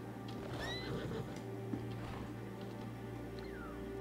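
A horse in the World of Warcraft video game, with a whinny and steady hoof clip-clops over a constant humming background, moderately loud and without talk.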